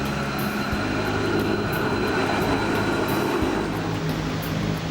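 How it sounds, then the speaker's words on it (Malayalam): A tram rolls down a gentle hill along a city street in Norway, a steady, continuous low rumble of wheels and motor close by and fairly loud, with faint high squeal and no talking. "ചെറുകുന്നിറങ്ങി വരുന്ന ഒരു ട്രാം."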